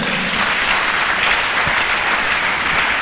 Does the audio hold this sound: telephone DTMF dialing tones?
no